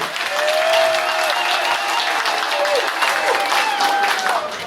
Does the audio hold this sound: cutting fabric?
no